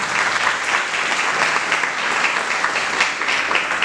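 A lecture audience claps together in sustained, dense applause that stays loud and even for the whole stretch, with no voices over it.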